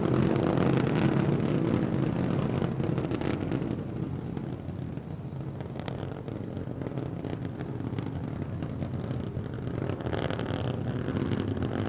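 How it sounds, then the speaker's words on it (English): SpaceX Starship SN15 prototype climbing on three Raptor rocket engines during a test flight, a loud continuous broadband roar with crackling that holds steady throughout, with no voices. "All 3 Raptor engines continuing to burn."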